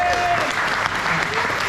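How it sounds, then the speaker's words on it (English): Audience applause from a crowd at a speech event, a dense steady wash of clapping lasting the whole moment, with a voice briefly audible over it. "So can you give Gloria a round of applause?"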